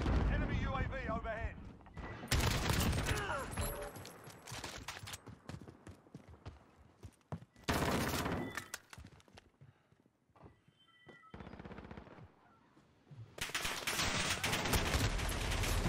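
Bursts of gunfire from Call of Duty Modern Warfare 2019 multiplayer, loud clustered volleys separated by quieter gaps, with a player talking over parts of it.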